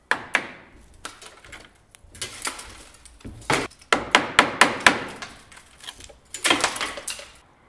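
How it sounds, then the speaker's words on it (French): An electric chipping hammer breaks up a reinforced concrete beam with corroded rebar, giving close, irregular bursts of sharp clattering impacts with brief pauses between them. "on va poursuivre tranquillement la démolition de cette poutre avec un burineur électrique"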